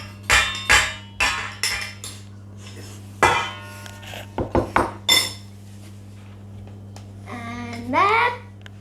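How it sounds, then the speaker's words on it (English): Icing sugar and butter tipped into a mixing bowl for homemade shortbread, heard as a run of sharp clinks and knocks against the bowl, with a voice chattering near the end. "icing sugar and the butter into a mixing bowl"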